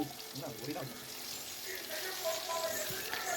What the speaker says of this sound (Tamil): சைட் பை சைடாக மீனை வந்து பொரிக்கிறதுக்கு போட்டாச்சு